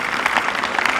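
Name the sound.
applause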